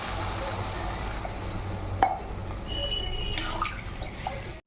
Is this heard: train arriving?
no